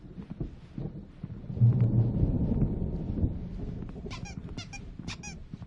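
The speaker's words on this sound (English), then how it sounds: "There's a storm coming. Oh, what a storm." Thunderstorm in the video game Alan Wake, with a loud rolling rumble of thunder building and fading, followed by faint high squeaky chirps near the end, no talk.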